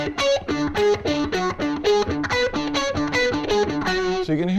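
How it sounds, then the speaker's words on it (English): Distorted electric guitar plays a rapid outside-picked pedal-tone lick with a D always on the bottom, with a steady, driving rhythm of short notes bouncing between the low D and higher notes, loud and unaccompanied. "So you can hear that D is always on the bottom."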